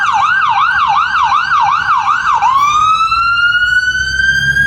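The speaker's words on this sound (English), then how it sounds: "We've got sirens." A loud, close siren wailing in rapid repeated yelps, then switching to a long rising wail that holds high, over a low traffic rumble.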